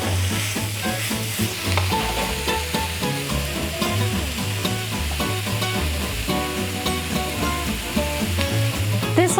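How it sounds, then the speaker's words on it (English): Ground turkey sizzling and frying in a pan, a steady dense crackle with occasional stirring scrapes, close and continuous with no talking. "I'm going to cook the turkey to brown it"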